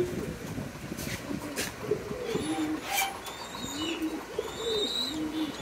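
A pair of White Bombay pigeons coo repeatedly nearby, the male courting the female before egg-laying, with soft rolling calls under faint background noise and a few distant chirps.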